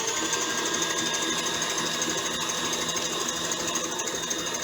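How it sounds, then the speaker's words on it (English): A stand mixer runs steadily at speed, whipping a marshmallow mixture with vanilla added, a continuous motor whir holding even and close with no talk. "Put the mixer back down, and I'm going to mix that really quick."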